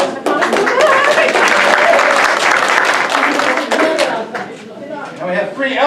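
An audience at an improv comedy show breaks into sustained applause, a loud, dense wash of clapping lasting several seconds before thinning out, with a voice speaking over it near the end.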